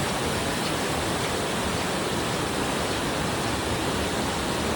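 Mother Falls, a waterfall in Aurora, pours in a constant, dense roar of rushing water, loud and unbroken throughout with no voices.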